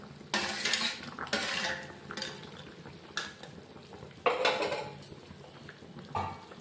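A lid goes onto a pot of crab curry simmering over a lowered gas flame: several metallic clanks and scrapes of lid against pot, spaced irregularly, over a faint simmering background.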